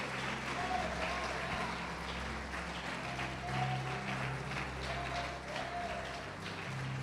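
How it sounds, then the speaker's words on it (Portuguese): A church congregation applauds together during an evangelical service, steady sustained clapping filling the room with a low hum of voices underneath. "Vamos aplaudir o Senhor, vamos glorificar a Deus."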